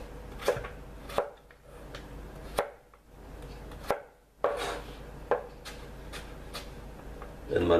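A knife chops vegetables for a chicken-breast vegetable soup. Sharp, separate thuds land on a board in an irregular rhythm, about a dozen cuts, close and clear with no talk.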